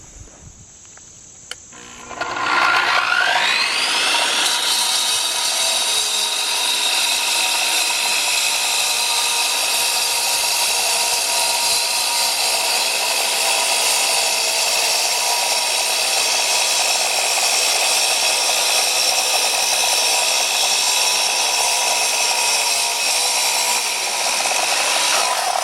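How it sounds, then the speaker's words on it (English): An Evolution electric 10-inch concrete and masonry saw spins up and cuts steadily, a loud, high, sustained whine with a grinding edge that holds without slowing, close and alone. "I'm letting the weight of the saw do the work, and it's cutting through pretty quick."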